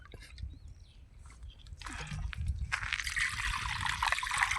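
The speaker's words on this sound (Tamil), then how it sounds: "மக்களே 2 கப் தண்ணி ஊற்றிக்கிடுவான்" Two cups of water pour steadily into a pot for nannari sherbet, a rising gush of splashing that grows fuller and louder over a few seconds, close by.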